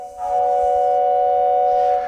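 A steady, loud whistle-like chord held for about two seconds, a train whistle effect played on a Wurlitzer theatre organ, sounding alone without talk.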